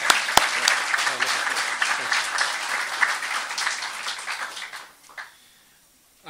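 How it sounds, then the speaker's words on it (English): An audience at a book launch in Apia, Samoa, bursts into sustained applause of many clapping hands, fairly close, fading out after about five seconds into near silence. "So if you could give a round of applause."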